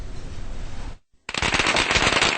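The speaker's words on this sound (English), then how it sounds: "Firecrackers," Chinese New Year firecrackers crackle in a dense, loud rapid-fire string, cut by a brief silence before another close, continuous volley of sharp pops.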